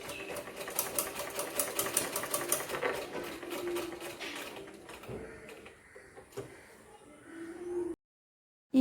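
A sewing machine runs in rapid rhythmic bursts of stitching, fairly quiet and close, then slows to scattered mechanical clicks before stopping near the end.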